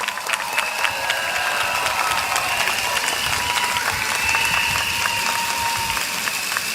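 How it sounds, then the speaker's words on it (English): Audience at an evening election rally for a Singapore political party breaks into applause, a dense, sustained wash of many clapping hands that stays loud and even throughout. "A warm round of applause."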